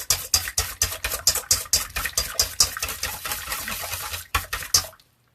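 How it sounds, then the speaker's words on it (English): Melted butter mixture for low-carb maple donuts whisked briskly in a bowl, making rapid, rhythmic wet strokes that hold a steady pace close up before stopping abruptly, with no voices. "So all I do is just whisk this up here, whisk this up really good."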